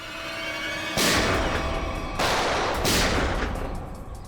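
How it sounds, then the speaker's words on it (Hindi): Gunfire in a Hindi TV crime drama, a loud close burst of rapid shots followed by a second volley, each decaying with a booming echo. "गोली की चलाई, सुन लो।"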